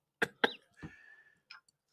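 Two quick, sharp coughs, then a third lower one trailing into a faint wheeze, followed by a brief soft throat noise; close and otherwise quiet.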